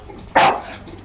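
A single dog bark rings out inside a video game, one sharp, loud burst standing alone against a low background hum.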